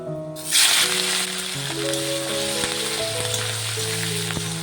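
Prawns drop into hot oil with dry chillies and nigella seeds and break into a loud, steady sizzle that starts abruptly and holds close and continuous, with a few faint tonal hums underneath.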